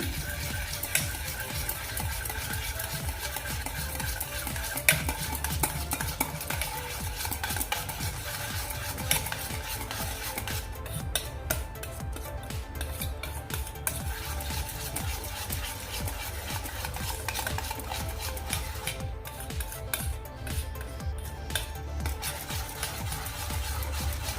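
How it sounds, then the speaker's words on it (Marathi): Flour being mixed into semolina batter for an eggless rava cake, a continuous close stirring and scraping in a bowl, steady and dense throughout, with no talking. "पुन्हा मी मैदा पुन्हा एकदा मिक्स करून घेते व्यवस्थित"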